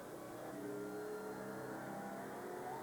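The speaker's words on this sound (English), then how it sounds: "Miller Genuine Draft Rusty Wallace stock car." A Miller Genuine Draft Rusty Wallace stock car engine in a racing setting, heard as a faint, steady droning roar with tonal lines that holds evenly throughout, with no voices.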